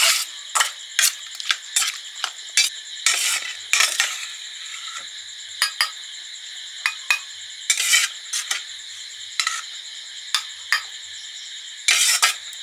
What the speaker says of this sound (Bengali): মশলাগুলো দিয়ে মাছ আর আলু মাখিয়ে নিয়েছি এবারে দিচ্ছি সর্ষের তেল এখন একটু দিয়ে মাখালাম